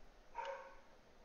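A dog barks once at a distance in the horror game The Mimic, a short muffled bark that is fairly faint and stands alone against a quiet background.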